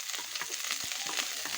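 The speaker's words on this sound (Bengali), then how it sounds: "প্রথমে আমি পেঁয়াজটা বেরেস্তা করে দিব।" Sliced onions fry in hot mustard oil for a pulao, a steady bright sizzle with soft crackling pops and occasional stirring scrapes, close and continuous with no talking.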